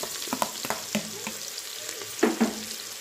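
Onions frying in oil in a pressure cooker for egg biryani give a steady close sizzle, with a few clinks and scrapes as they are stirred.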